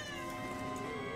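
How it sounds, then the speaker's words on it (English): A cat gives a single drawn-out meow, close and fairly faint, lasting about a second. "Well, hi, kitty."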